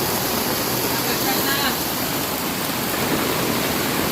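Heavy rain pours and water runs off the edge of a roof on a farm, a dense, loud, steady rushing hiss that fills the whole stretch without letup.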